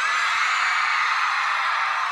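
A large concert crowd screams and cheers on cue at a live pop show in Hollywood, a steady, loud roar of massed voices with no break.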